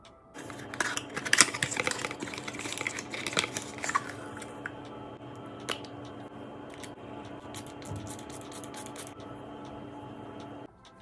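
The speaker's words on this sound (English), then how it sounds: "Give you a quick little ASMR unboxing." A box of Adwoa Beauty Melon Berry Hair Milk is being unboxed up close: crisp crinkles, taps and scratches of cardboard and packaging bunch together early, then thin out to sparse soft clicks over a low steady hum.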